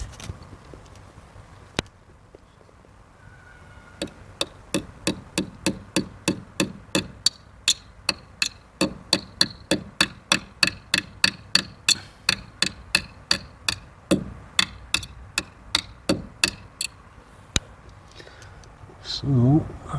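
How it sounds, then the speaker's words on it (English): Dart points hammered into a wooden fence: a long run of sharp, evenly spaced hammer taps, some louder than others, with a brief pause partway through and a scuffling noise at the end. "I just need to hammer this one in"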